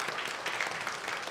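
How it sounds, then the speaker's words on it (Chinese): A church congregation at a Sunday service claps in a steady patter of many hands. The applause sounds somewhat distant and soft, and no voices are heard over it. "我们给他们鼓鼓掌好吗？"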